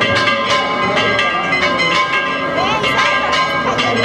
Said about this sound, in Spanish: Y ya están repicando las campanas